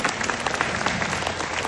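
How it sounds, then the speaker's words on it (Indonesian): A brief burst of steady audience applause from a crowd at a seminar-style event, dense, continuous clapping. "Tepuk tangan buat Swanghor."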